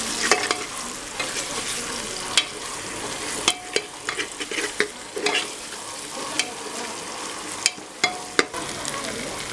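Ginger garlic paste stirred into softened fried onions for a vegetable biryani, a steady sizzle under repeated scraping and clacking strokes of a spoon against the pan, close and fairly loud, with no talking.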